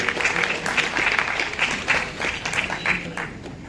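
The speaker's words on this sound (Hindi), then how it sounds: "थोड़ा ताली बजी थी," A crowd at a certificate ceremony honouring top students claps for several seconds, a dense, lively patter of many hands nearby that swells and eases slightly, with no voices on top.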